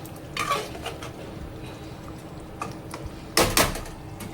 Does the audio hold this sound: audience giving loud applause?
no